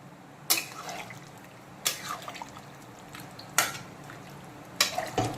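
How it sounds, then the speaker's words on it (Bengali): Pointed gourd and potato being stirred with milk in a pan, with a spoon scraping and clattering against the pan in a few sharp strokes over a soft, quiet simmer. "এখন ভালো করে দুধের সঙ্গে পটল আর আলুটাকে একটু ভালো করে মিক্সড করে নিচ্ছি"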